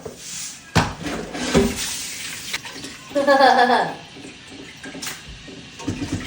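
Water runs from a tap as ingredients for ogbono soup are rinsed, splashing bursts rising and falling under light kitchen clatter.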